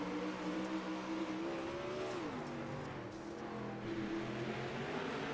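Several 360 sprint cars in an iRacing oval race scream past together, their engine notes climbing and dipping as they jostle for position, loud and continuous with no voices.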